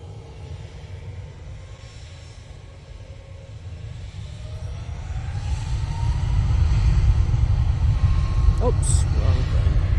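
A Boeing 737 MAX 8 airliner takes off at Manchester Airport, its jet roar faint at first then swelling over the deep rumble, with a voice talking now and then.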